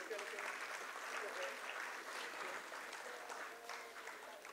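An audience applauds at an annual talent showcase after a guest is honored with a planter: continuous, even clapping that stays faint and distant and lasts the whole stretch without letting up.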